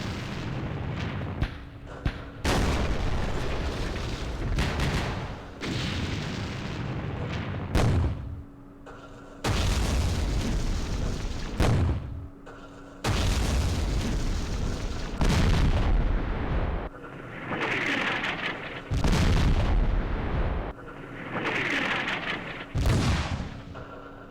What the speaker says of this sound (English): Have all this artillery hitting and it doesn't look like it's doing anything.